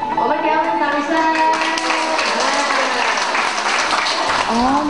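Sustained audience applause fills a Malaysian Tzu Chi gathering, a steady dense clatter of many hands under music and a voice carrying over it throughout.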